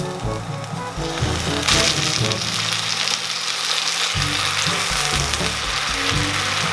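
A little water goes into a hot frying pan while vegetarian food cooks, and a loud sizzle rises into a dense, steady hiss that stays strong for several seconds, with a low hum running underneath.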